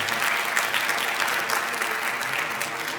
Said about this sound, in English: How about a round of applause for those three girls?